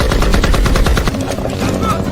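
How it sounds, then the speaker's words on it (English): Rapid bursts of gunfire in a firefight with terrorists, loud and dense, with close overlapping shots in the first second before the firing thins into scattered cracks. "the terrorists quickly return fire"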